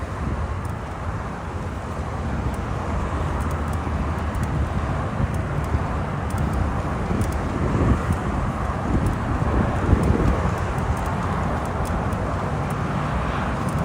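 Wind buffeting a microphone while cycling around Jamaica Bay in New York City, a constant loud rumbling roar with gusty swells and no voices.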